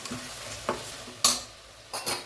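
Mutton intestines deep frying in a pan for kudal gravy, with a steady low sizzle broken by three sharp scraping stirs, close and moderately loud, no voices.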